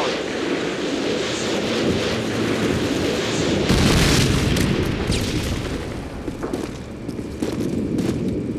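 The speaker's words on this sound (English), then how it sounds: "Friendly predator missile inbound." A predator missile explosion in Call of Duty: Modern Warfare 2 lands as a loud, rumbling blast amid continuous battle noise and scattered shots.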